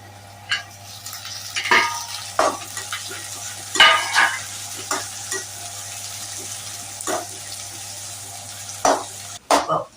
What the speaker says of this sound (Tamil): நல்லா வதங்கிடுச்சுங்க. இப்ப நெத்திலி பொடியை போட போறோம்.